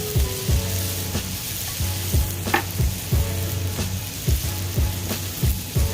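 Chopped onion sizzles and fries in a pan for chicken fried rice, a steady dense crackle with a low rhythmic scraping or stirring repeating about every half second, close and fairly loud.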